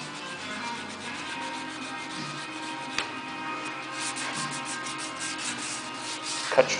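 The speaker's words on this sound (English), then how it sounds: "Come back, crosshatch sand it." Hand sanding a 1968 Oldsmobile Delta 88 car body with 220-grit rolled sandpaper wrapped around a stick, a continuous close rasping rub with steady back-and-forth strokes and a small knock near the end.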